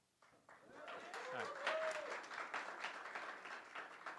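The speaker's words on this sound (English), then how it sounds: "everyone in the room clapped" A room full of people claps, applause swelling quickly and holding steady, with a few voices audible underneath.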